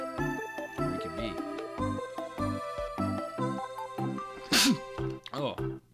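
A single sharp sneeze bursts out over a bouncy melodic game soundtrack, brief and close, followed by a few vocal sounds as the music continues.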